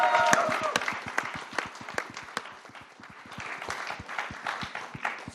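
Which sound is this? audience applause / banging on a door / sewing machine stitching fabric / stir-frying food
audience applause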